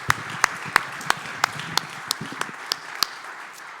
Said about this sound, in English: How about a round of applause for your board?